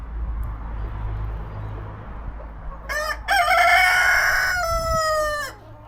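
At a chicken house, a low murmur of hens gives way to a loud, close rooster crow, a drawn-out cock-a-doodle-doo that ends in a long tapering note, with faint clucking underneath.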